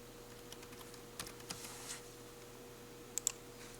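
Quiet, sparse keystrokes on a computer keyboard, a few soft clusters of taps and clicks over a steady low hum.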